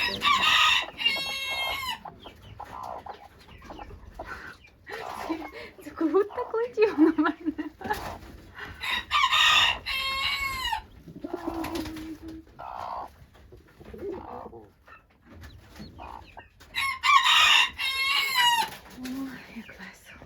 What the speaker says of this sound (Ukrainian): Гарні курочки.